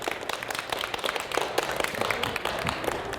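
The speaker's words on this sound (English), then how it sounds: "Another round of applause" An audience at a brown bag talk about animals in video games claps steadily, a dense stream of overlapping hand claps held at an even, moderate level from start to finish.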